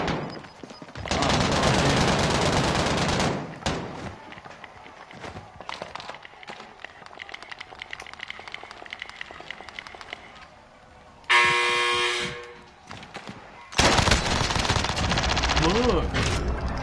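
Warzone video game gunfire comes in long, loud bursts of rapid automatic shots, separated by quieter stretches of scattered sounds and a brief harsh horn-like blare in the middle.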